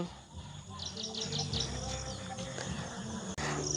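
Sparrows and weaver birds chirp in rainy village fields, with a short run of bright chirps early on over constant insect buzz and low background rumble, fairly faint and continuous.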